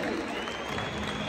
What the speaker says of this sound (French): Applaudissements pour Mounetzi,